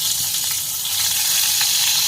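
Ginger garlic paste sizzles in a spoonful of hot oil in a pan, a loud, bright crackling fry that runs continuously, close up, with no talking.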